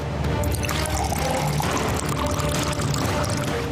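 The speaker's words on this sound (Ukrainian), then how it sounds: "Якщо додати у цей спирт води," Water poured into ethanol at a distilling plant, heard as a steady, close, loud stream of liquid running continuously throughout, with no voices.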